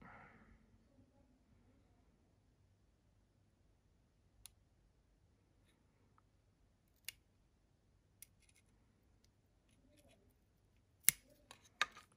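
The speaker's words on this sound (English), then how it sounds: "I went to get a knife now, and I'll see if I can actually get underneath here and peel it off" Knife blade cutting and peeling a stiff sticker off a RAK V2 Helium miner, heard as faint, scattered clicks and light scrapes over a quiet room, with a sharper flurry of snips near the end.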